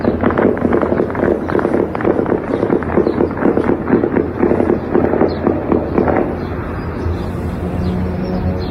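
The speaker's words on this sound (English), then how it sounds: "Now we hear the air defense fire picking up as you see another drone coming in." Air defense guns fire at an incoming drone in a rapid, loud string of cracking bursts that runs for about six seconds before fading into a lower, distant rumble.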